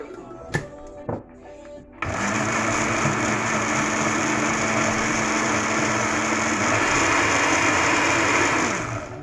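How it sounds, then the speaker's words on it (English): After a few quiet clicks and knocks, an electric blender starts up and runs loud and steady, whirring organic coconut and carrot oil without any water until the end. "I'm going to be putting it in my blender like this."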